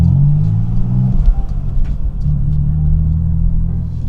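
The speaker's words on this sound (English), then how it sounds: "the exhaust on this thing is not too crazy, just because we still have the OEM muffler on here" A BMW F82 M4 Competition coupe with its stock OEM muffler rumbles steadily from inside the car, a deep close engine and exhaust drone that rises and falls slightly with throttle, no voices.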